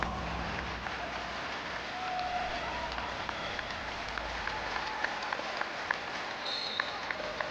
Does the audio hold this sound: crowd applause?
yes